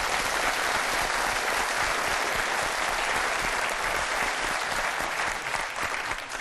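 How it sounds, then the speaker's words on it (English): A talk-show studio audience applauds with loud, steady clapping that continues without a break from start to finish. "Give them a round of applause, ladies and gentlemen."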